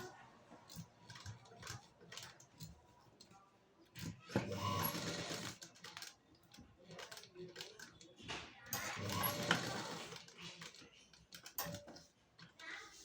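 A sewing machine stitches a blouse in quick, faint mechanical ticking bursts, with two louder stretches of running; a voice speaks at points between the stitching.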